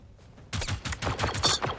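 Rapid shotgun blasts in Generation Zero co-op combat, a quick string of about eight punchy, closely spaced shots following a quiet lead-in and staying loud throughout.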